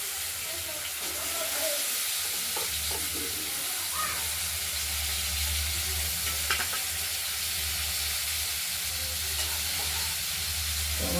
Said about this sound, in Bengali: দিয়ে এই আলু আর বিনসগুলো একসঙ্গে আমরা ভেজে নেব